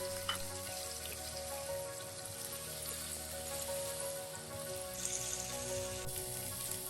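Steady crackling sizzle of chopped onions frying in hot oil for a pepper eggplant fry, continuous and close, with faint low hum underneath and no talking.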